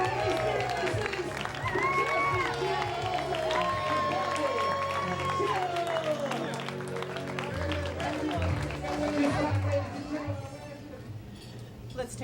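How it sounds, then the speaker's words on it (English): Wedding guests applaud and cheer for the newly married couple, a steady crowd of clapping with voices and music-like tones mixed in, continuous and fairly loud for several seconds. "let's have a round of applause"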